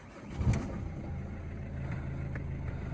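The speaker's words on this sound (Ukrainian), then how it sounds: "Так, завівся супер. Чую, моторчик гарно працює." A car engine catches and settles into a steady idle hum, with a brief louder burst at the start and no talking.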